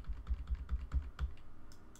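Keys on a computer keyboard are pressed in a steady run of about nine soft, close taps, evenly spaced and with no talking.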